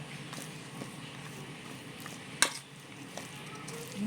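A ladle stirs and presses a hot coconut naru mixture in a pan, giving a soft, steady scraping bed with one sharp clink of metal near the middle, close and fairly quiet.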